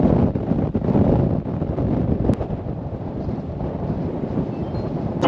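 Strong wind buffets the microphone on a Scottish mountain ridge, a loud, continuous low roar and rumble with gusty swells and no speech.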